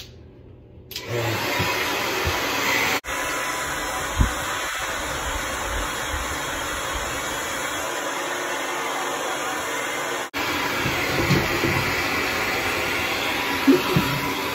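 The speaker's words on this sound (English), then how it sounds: "now let's blow dry you" A hair dryer blows steadily on a baby after a bath, a continuous broadband whoosh with a brief cutoff partway through, close and loud, with faint background sounds.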